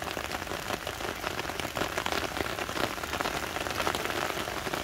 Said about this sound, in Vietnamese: Mưa tới nữa rồi bạn ơi.